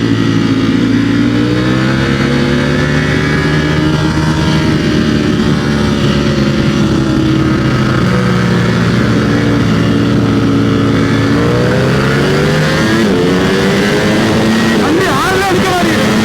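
A brand-new V4S motorcycle engine revs and climbs through the gears, its harmonic tone rising and falling loudly and close, with people talking over it throughout.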